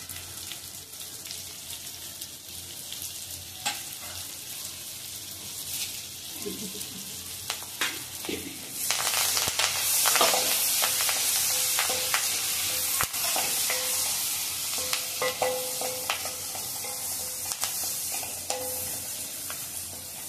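Chopped onion sizzling and frying in a pan for a mixed vegetable masala bhaji, with repeated spoon stirring and scraping; a brief burst of running tap water joins midway, and the frying continues steadily to the end.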